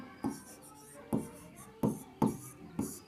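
Pen strokes on paper as room surface-area working is written out, five short scratchy bursts spaced about half a second to a second apart, close and clear with no talking.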